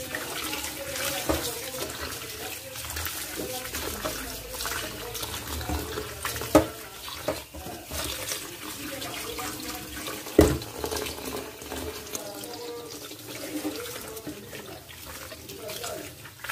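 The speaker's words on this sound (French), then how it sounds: "Je vais laver encore." Food being washed under a running kitchen tap while preparing Congolese dishes: steady close water flow splashing into a sink, with occasional clunks and handling noises over about sixteen seconds.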